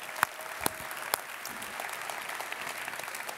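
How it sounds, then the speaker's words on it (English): Keynote audience applause at a tech conference, a modest burst of clapping with a few sharp claps up front, then steady, thin applause from a large hall continuing to the end. "Actually, another round of applause for Mark."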